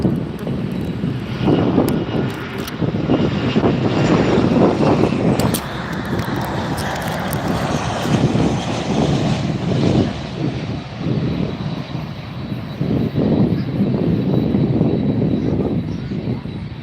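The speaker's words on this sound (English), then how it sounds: "Another American touching down, and there is Lufthansa 747." An airliner touches down at Miami International Airport at night, its engines roaring loud and steady and close for the whole stretch, with a brief wind-like rush and no voices.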